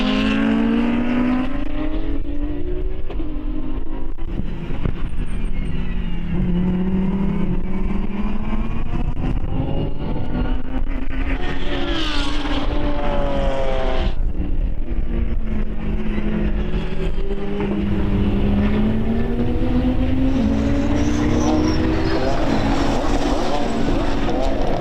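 GT race cars in an FIA CEZ GT Cup race at BalatonPark, engines roaring loudly with rising and falling pitch as cars pass close together, under continuous commentary.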